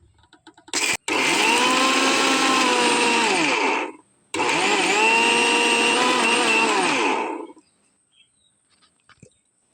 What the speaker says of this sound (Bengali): এবার গুঁড়ো করে নেব প্রথমে কিন্তু এটা আমি একসাথে কিন্তু গুঁড়ো করবো না অল্প অল্প করে গুঁড়ো করবো